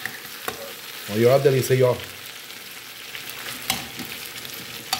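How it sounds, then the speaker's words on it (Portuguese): Pork offal sarapatel with liver, heart and lung frying in a pan, a steady close sizzle and crackle running throughout, with someone speaking Portuguese briefly over it. "Fritando aqui, fazendo um molhozinho dele aqui, né? Um sarapatel de porco"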